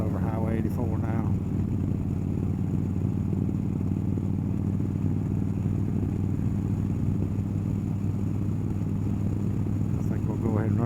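A motorcycle rides along a highway, its steady engine drone and wind rumble continuous and close from a backpack-mounted mic, with brief voice fragments near the start and end.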